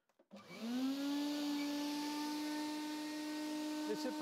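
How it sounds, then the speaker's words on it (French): A dust extraction vacuum hooked up to a Vevor planer starts up after a couple of clicks, rising quickly into a loud, steady, close whine with a strong tonal hum that holds to the end. "il ne faut pas oublier de brancher l'aspiration, bien sûr, et de la mettre en route"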